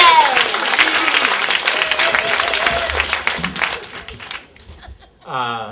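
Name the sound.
audience applause for a storyteller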